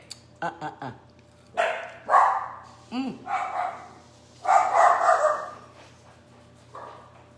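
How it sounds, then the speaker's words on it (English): Several dogs bark and yip in short excited bursts, close by and fairly loud, with a person talking in between and over them. "Dogs are everywhere."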